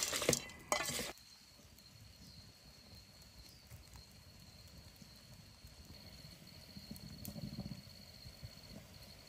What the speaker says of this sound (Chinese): 搅拌均匀完，然后腌一下。